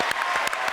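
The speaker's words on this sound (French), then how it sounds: "Applaudissements pour monsieur Michel qui était là" Studio audience applause on a French evening television show, a short steady burst of many hands clapping with a few sharper claps standing out, fairly close and full, with no talking.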